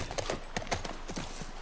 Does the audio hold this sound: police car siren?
no